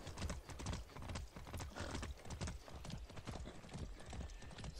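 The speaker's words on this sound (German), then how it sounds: "hier reiten wir einfach vorbei" Horse hooves clip-clopping in a steady galloping rhythm while riding in the video game Far Cry 6, clear and continuous with no talk over them.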